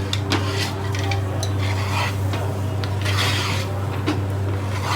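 Meat curry being stirred into mutton biryani in a pot, with scraping and rubbing of a spoon against the pot and occasional clinks over a steady low background hum.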